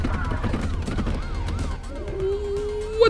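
Police car siren in a video game, a wailing rise-and-fall tone repeating several times over engine and street noise, then settling into a steady held pitch.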